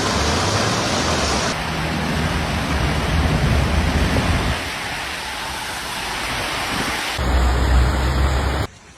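Heavy storm rain pours down in a steady, dense wash of noise over a flooded district in Turkey, with a low rumble underneath that swells and shifts in loudness before cutting off abruptly at the end.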